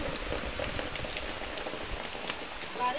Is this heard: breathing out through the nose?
no